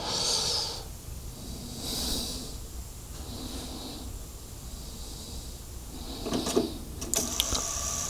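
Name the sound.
cassette deck running auto calibration on a tape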